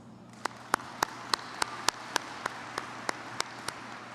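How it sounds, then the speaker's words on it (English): Sparse, evenly spaced single hand claps at a high school graduation ceremony, about a dozen sharp beats over a faint room hum, rather than a full crowd. "Let's give them a round of applause."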